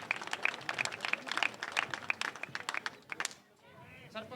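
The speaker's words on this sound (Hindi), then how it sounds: "एक बार जबरदस्त तालियां मार देंगे।" A rally crowd in Narwana, Haryana breaks into scattered clapping, a dense patter of many hands that thins out near the end, with voices mixed in.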